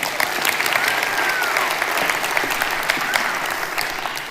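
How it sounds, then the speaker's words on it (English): Steady applause from a large audience at a body-language talk, dense and sustained throughout at an even level. "Give her a round of applause."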